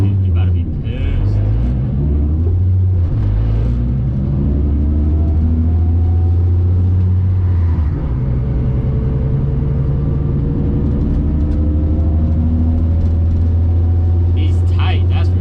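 A Nissan 350Z fitted with a VQ37 engine on the move, a deep steady engine drone with shifting pitch that rises and falls, heard from inside the car with people talking over it.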